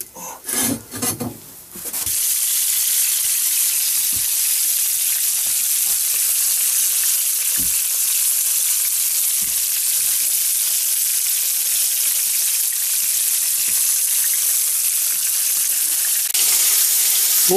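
Crucian carp frying in a pan sizzle steadily and loudly up close, a dense continuous crackle with occasional pops and faint utensil knocks, following a brief burst of handling noise at the start.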